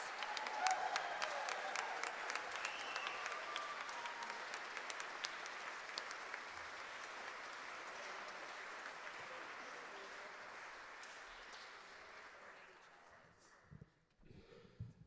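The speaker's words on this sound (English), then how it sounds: "Give them a round of applause." Sustained audience applause for the Adelaide University Big Band at an evening jazz concert, steady dense clapping from a crowd that slowly thins and fades out near the end.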